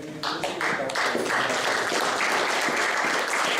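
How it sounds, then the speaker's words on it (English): A crowd applauds a new Eagle Scout at his court of honor, and the clapping builds quickly into a dense, even round that stays steady to the end. "let's give a round of applause for our new Eagle"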